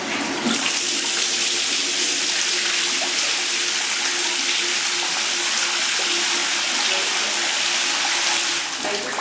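Water from a hotel bathroom shower in London hisses steadily and loudly, a constant broad spray running without a break.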